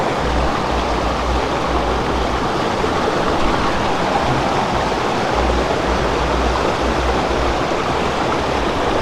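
A small waterfall spills off rocks beside a river, giving a steady, loud rushing roar that stays even and unbroken throughout, with no voices.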